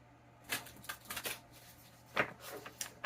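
Tarot cards are shuffled by hand in quiet, soft bursts of riffling and tapping, close up and faint, with short pauses between.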